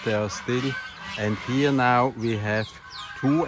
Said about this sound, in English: You can hear the geese in the background